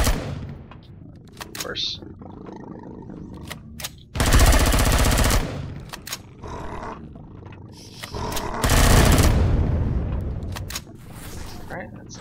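Gunfire in the video game Empyrion Galactic Survival, aimed at an enemy spawner: two loud sustained roaring bursts of shooting stand out amid scattered sharper shots, with people talking between them.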